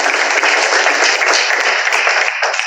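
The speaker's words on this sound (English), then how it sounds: "why don't we give them a round of applause?" An audience applauds the city council at a town hall meeting in Lawrenceville, a steady, dense wash of clapping running loud and even from start to finish.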